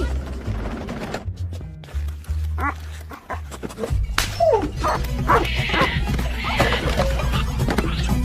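A dog in an animated cartoon barks and whimpers amid busy soundtrack noise, with voices talking over parts of it.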